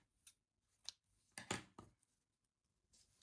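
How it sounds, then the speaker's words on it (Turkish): Scissors snipping crochet yarn, a few quiet, sharp clicks spaced apart close by, the loudest cut near the middle, in an otherwise quiet room. "Şimdi ipimi burada keseceğim."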